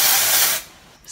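A steady, close aerosol spray hisses for about half a second, then cuts off, leaving a faint hiss and a short sputter at the end.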